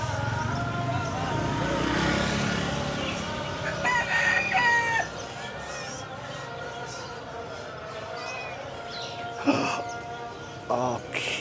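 A hen clucks and a rooster crows amid a busy outdoor scene in a mountain village, with people talking and a passing vehicle in the background.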